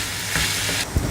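Tomatoes frying in a pan with curry leaves for a peanut and cluster bean gravy, giving a close, steady hiss of sizzling throughout, broken near the end by a short clatter of stirring.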